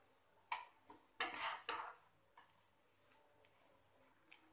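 Semolina roasting in ghee over a medium flame for halwa, stirred in a pan with a few soft scraping strokes and clinks in an otherwise quiet kitchen.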